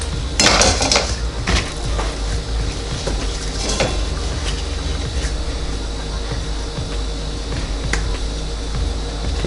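Biscuit dough for Cheddar Bay-style biscuits scooped by quarter-cup onto an air fryer crisper tray, with close metallic clinks and scrapes of the scoop against the tray and bowl, a sharp clatter near the start and scattered knocks after.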